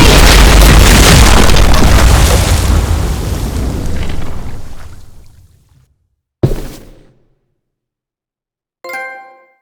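A bomb explodes in The Walking Dead: The Final Season video game, a loud broadband boom that rumbles and fades over several seconds, followed by a sharp impact and a brief ringing metallic clang.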